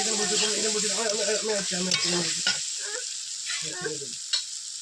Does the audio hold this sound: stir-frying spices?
yes